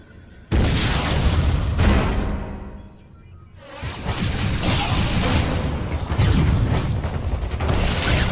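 Missile blast from the video game Metroid Other M: a sudden loud boom with a whooshing burst, a brief lull, then a second sustained rumbling explosion with crashing debris that rolls on to the end.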